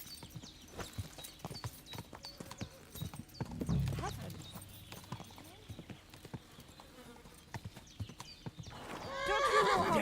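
Horse hooves clip-clop at a gallop in the medieval game Kingdom Come: Deliverance II, with a loud neigh near the middle and another whinny at the end, all over a quiet background.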